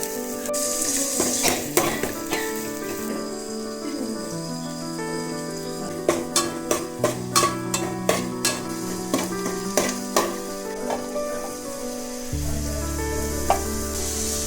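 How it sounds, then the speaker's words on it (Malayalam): Shallots and curry leaves frying hard in hot oil in a pan, after mustard seeds have popped: a steady close sizzle broken by a run of sharp stirring clicks and taps, over soft melodic music. "അതിലേക്ക് ചെറിയ ഉള്ളിയും കറിവേപ്പിലയും ചേർത്ത് നന്നായി മൂപ്പിച്ചു."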